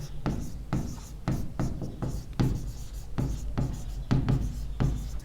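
A pen writes during a lecture on chlorination in environmental engineering, with repeated short scratchy strokes in an irregular rhythm, close and fairly loud, with no talk over them.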